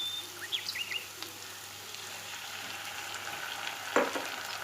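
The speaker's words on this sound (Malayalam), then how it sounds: "ചില്ലി പേസ്റ്റ് നന്നായിട്ട് ചൂടൊക്കെ ആയിട്ട് നന്നായി മൊരിഞ്ഞ് വന്നിട്ടുണ്ട് കേട്ടോ." Chilli paste and chilli sauce fry in a pan for dry chilli chicken, a soft, even sizzle with faint crackles and one sharper scrape or clink near the end, no voices.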